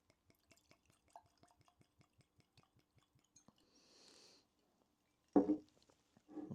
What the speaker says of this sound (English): Let's go ahead and pour it up in our Glencairn.